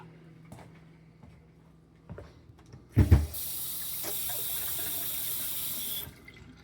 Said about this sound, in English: Water is turned on.